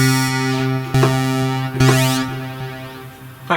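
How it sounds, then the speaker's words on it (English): Arturia PolyBrute synthesizer tones pass through its metallizer, a loud, sustained, harmonically dense drone with bright, ringing overtones that sweep upward in a few distinct surges. "It's also a parametrical metallizer."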